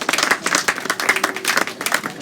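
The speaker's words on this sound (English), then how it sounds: "Give yourselves a round of applause." A crowd at a small-town election gathering gives a round of applause, with dense, loud clapping that rises and falls in waves and never stops over a couple of seconds.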